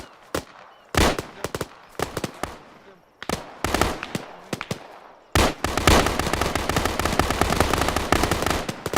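Bursts of machine gun and rifle fire crack out nearby during counter-ambush training, first in separated volleys, then in a sustained, dense rattle of shots.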